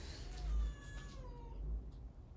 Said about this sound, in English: I think cat and dog are getting annoyed with each other again.